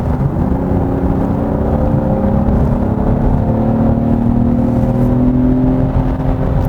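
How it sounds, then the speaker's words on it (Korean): Hyundai Grandeur GN7 AWD engine with active sound design set to strong, heard from inside the cabin as a steady, full low drone with layered harmonic tones, slowly rising in pitch over several seconds. "이러한 엔진 사운드가 구현이 됩니다. 확실히 액티브 사운드 디자인을 켰을 때 좀 더 웅장한 엔진음을 내고 있는 것 같습니다."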